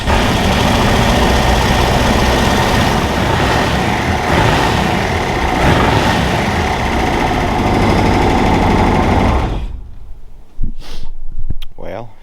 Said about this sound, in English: Now that the motor's back in, we'll see if we can get it to run.